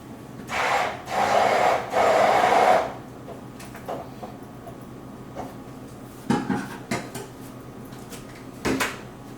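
A blender pulses crepe batter in three short loud bursts, followed by scattered quiet knocks and clatter from the kitchen.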